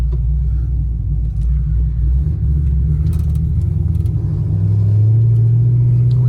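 Deep, lumpy V8 engine rumble from a cammed Chevrolet Camaro SS idles and builds loudly, close and steady, with a rising drone near the end.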